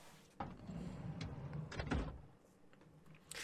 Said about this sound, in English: opened the passenger side door